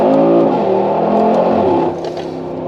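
A Mercedes G63 AMG SUV's turbocharged engine accelerates hard nearby through side-exit exhausts, its deep rising growl loud and continuous, then easing off slightly toward the end.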